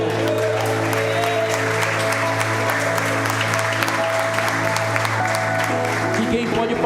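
A church congregation applauds during a conference service, continuous clapping from many hands over a sustained musical drone of organ or keyboard chords.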